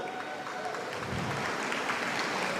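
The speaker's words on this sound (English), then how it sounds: "please put your hands together for Miss Farida Maynard" A crowd at a para swimming finals event applauds as officials are introduced, steady clapping filling the venue for a few seconds.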